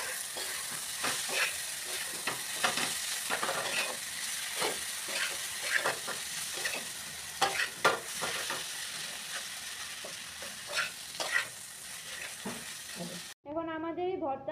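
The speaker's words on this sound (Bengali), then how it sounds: "এখন ভালো করে সবগুলি উপকরণকে আমাদের ভাজা করতে লাগবে।" Spiny gourd mash and its seeds fry and get stirred in a kadai, giving a steady close sizzle broken by repeated scraping strokes of the spoon for most of the stretch before it cuts off abruptly.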